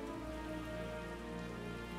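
Steady rainfall pattering on surfaces in the video game Final Fantasy XIV, a continuous even hiss with no voices over it.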